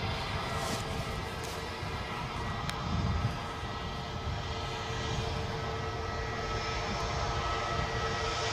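Aircraft engine noise near the runway at Edinburgh airport, a steady broadband roar heard from a distance, sustained and fairly even in loudness throughout with no talking.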